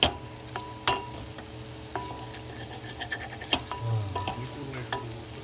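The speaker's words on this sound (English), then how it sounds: "after 15 minutes of stir frying, maybe more, how the onions have browned out a little bit" Onions stir-frying for chicken yakhni, browned after a long cook: a steady low sizzle with scattered clinks and scrapes of a spoon against the pan, close and moderately quiet, no talking.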